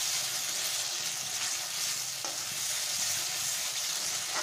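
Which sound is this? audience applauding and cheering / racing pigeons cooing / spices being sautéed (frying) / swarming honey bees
spices being sautéed (frying)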